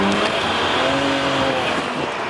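A badly worn BMW 335's engine roars hard under full throttle, its pitch climbing as it revs, with noises coming from the front. The sound is loud and close, with road noise underneath.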